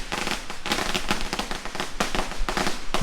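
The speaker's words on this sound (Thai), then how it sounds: "มาถึงก็มีเสียงประทัดตอนรับกันเลยครับ" Firecrackers going off to welcome visitors at Chang Hai temple in Pattani, Thailand: dense, continuous rapid crackling bursts, loud and close, filling the whole stretch without pause.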